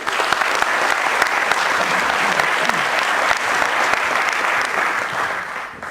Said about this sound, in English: Can I get a round of applause for FoodCircles?